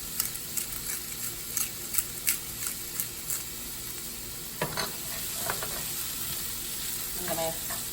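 Sage, celery, salt and pepper cooking in a pan over medium-low heat, a steady sizzle with repeated sharp scrapes and taps of stirring, close and with no speech.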